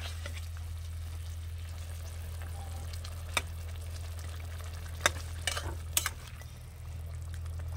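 Rupchanda (pomfret) fish pieces go into a bubbling curry in a pan, bringing a steady low simmering sizzle with a few sharp clinks and splashes near the end, no voices.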